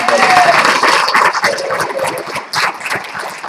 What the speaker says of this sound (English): So again, applause for Sam.